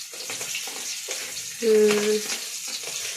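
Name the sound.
chili and garlic frying in a pan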